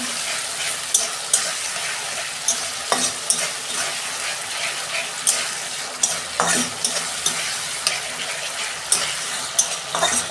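Tomatoes and salt sizzle in hot oil for a tengra fish curry, with a steady frying hiss throughout and repeated sharp clinks and scrapes of a spatula stirring against the pan, close and clear with no talking.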